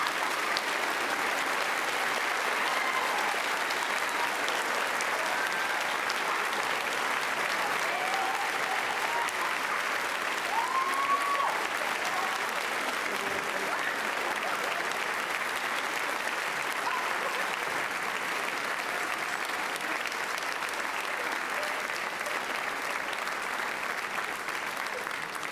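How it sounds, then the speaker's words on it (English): Sustained audience applause at a middle school eighth grade celebration, honoring the Ernie Popeil Achievement Award winners; dense, steady clapping fills the room throughout with a few scattered cheers. "Can we have one more round of applause for our Ernie Popeil Achievement Award winners?"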